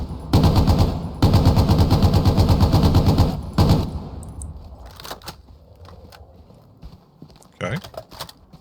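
A British machine gun fired from the hip in Hell Let Loose, three loud sustained bursts of rapid automatic fire, each a few seconds long. Scattered shots, clicks and handling noises follow over a quieter background.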